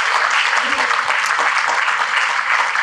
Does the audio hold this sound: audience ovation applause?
yes